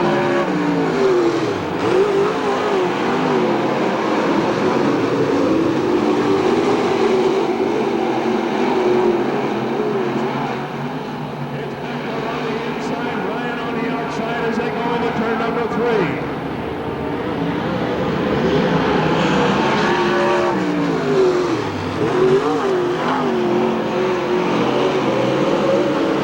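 Race cars roar past the start-finish line at Hamilton County Speedway in 1993, a loud, continuous engine drone rising and falling as cars pass, with an announcer talking over it throughout.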